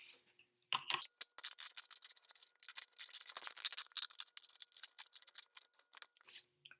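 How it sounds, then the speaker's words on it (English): Scissors cutting out a paper mosaic egg made of glued paper pieces, a close run of crisp snipping and crunching cuts in quick irregular bursts, with no talk. "I'm going to go ahead and cut it out and see what that looks like."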